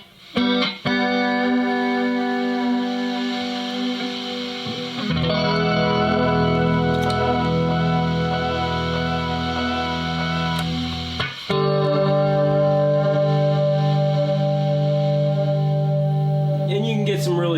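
Electric guitar played through a Vinyl Engine NU33 pedal with added hiss on a pedalboard, sustained chords with a warped, wavering tone over a steady noisy bed, loud and close with no talking.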